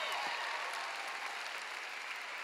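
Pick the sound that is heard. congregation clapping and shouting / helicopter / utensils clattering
congregation clapping and shouting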